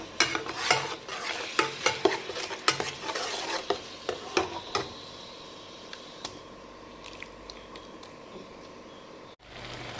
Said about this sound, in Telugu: దీంట్లోనే ఇప్పుడు నేను చేసుకున్న ఈ పేస్ట్, డేట్స్ పేస్ట్ వేసేస్తున్నాను. మొత్తం వేసేసి ఇవి రెండు కలిపి